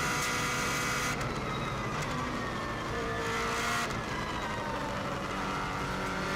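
A Subaru WRX STI (2016) driven flat out around the Isle of Man TT road course, engine roaring steadily and loudly throughout with brief shifts and surges in pitch, heard from inside the car.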